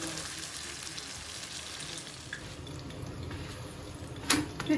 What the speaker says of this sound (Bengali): আস্তে আস্তে চুলার আঁচ কমায় ভাজতেছে।